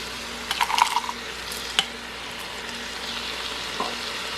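Beef broth poured into a pot holding canned tomatoes and frozen corn: a brief burst of splashing and bubbling near the start, then soft sizzling and scattered drips, with no talking.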